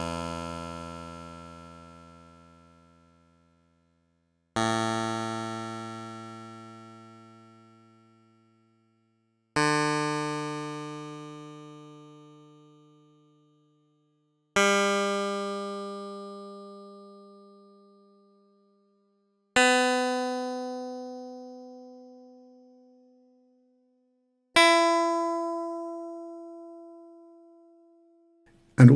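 Six synthesized guitar strings, generated in code, plucked one at a time from low to high, each a clear harmonic tone starting sharply and decaying over about five seconds, evenly spaced with silence between, no voices.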